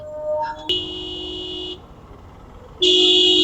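Two loud steady motorbike horn blasts, the first about a second long and the second starting after a short gap, with traffic noise between them.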